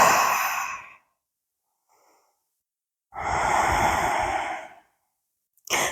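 Slow, deep breaths released during a yoga stretch: an airy exhale at the start, then a longer, fuller breath out after a quiet pause, and a brief breath at the end, all close and unaccompanied by talk.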